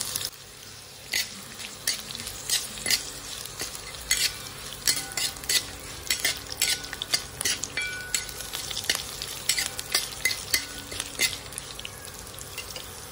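Cashews frying and being stirred in a pan over a low flame, a steady soft sizzle broken by frequent sharp scrapes and clinks of a spoon against the metal, with no voices.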